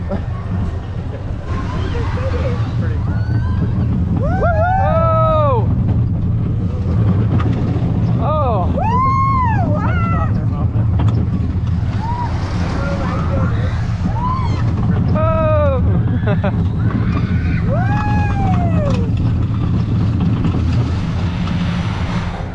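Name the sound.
Speed Rockets roller coaster ride with riders yelling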